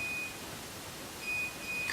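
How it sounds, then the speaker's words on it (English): A laundry machine gives faint, thin electronic beeps, a short one followed by a couple more, over quiet room background. "I like how my laundry beeps at me."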